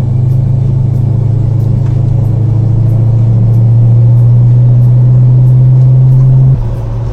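1969 Dodge Charger R/T driving with a deep, steady engine rumble heard from inside, loud and continuous, the tone rising slightly before easing off near the end.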